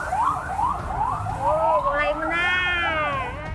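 A speeding ambulance siren on a quiet city street during emergency road closures, wailing and yelping in rapid sweeps, loud and near, with voices talking over it.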